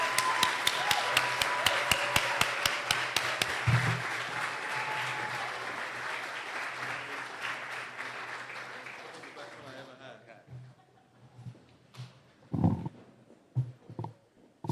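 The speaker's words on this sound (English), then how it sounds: "give a round of applause to my dear friend, London's finest, Raheem Kassam." An indoor audience at a political speech event in New York bursts into sustained applause that fades out gradually, followed by scattered claps and a few faint voices.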